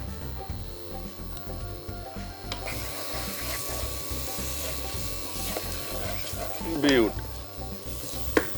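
Tomatoes drop into a pan of frying spices and salt and set off a close sizzle, with scraping stirs and some clatter. Steady sizzling hiss throughout, with a louder flare near the end.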